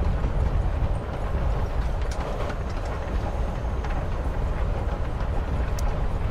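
A moving train in the video game Life is Strange Before the Storm rumbles steadily and loudly, with a constant low clatter that runs through the whole stretch without talk.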